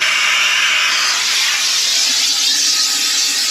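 An airlift vacuum tool hooked to the cooling system of a 2017 Honda Civic hisses loudly and steadily as it sucks air out, a continuous close rushing sound with no voices.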